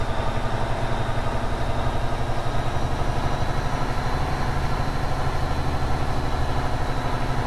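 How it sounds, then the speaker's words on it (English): A deep diesel engine of a Freightliner FLB cab-over truck in American Truck Simulator rumbles steadily at idle, a constant low throb with no pauses and no voices. "We'll enjoy the sound of the engine. It's such a nice sounding engine."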